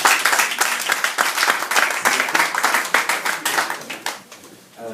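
Audience applause at a gathering with a pastor speaking: steady, dense clapping from a crowd, loud and continuous, tapering slightly at the end.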